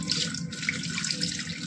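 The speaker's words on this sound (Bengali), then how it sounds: "চালটায় জল থাকতে থাকতে ধুয়েছি, দারুণ ধোয়া হয়েছে।" Soaked rice being rinsed by hand in water, a close continuous splashing and swishing that holds steady throughout, with no talking.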